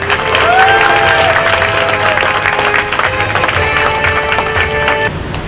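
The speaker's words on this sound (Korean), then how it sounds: "힘찬 박수와 함성으로 맞이해 주시기 바랍니다." A crowd at a labour union rally applauds and cheers to welcome four regional leaders: loud, dense clapping and shouting with some sustained tonal sounds, fading slightly toward the end.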